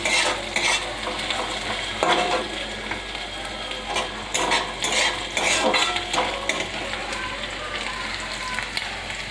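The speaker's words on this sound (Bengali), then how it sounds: "এই যে মশলাটা ভাজা হচ্ছে।" Masala spices sizzle and fry in a kadai, stirred with repeated utensil scrapes and clinks against the pan over a steady crackling hiss, close and moderately loud throughout.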